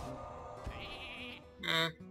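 Sheep bleats from a video game, one bleat early and a louder, brighter bleat near the end, over a steady game background hum.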